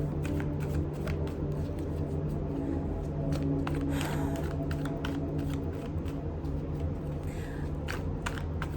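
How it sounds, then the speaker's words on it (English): Tarot cards are shuffled close up in a continuous run of soft riffling and sliding flicks, with a steady low background hum underneath. "as I was shuffling the cards"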